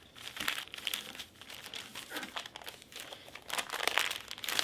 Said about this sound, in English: you take each of your little bags and you fold them in half.